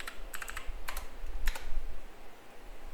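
Quick bursts of keystrokes tap on a computer keyboard, three short clusters of clicks close by over a low background hum, with no voices.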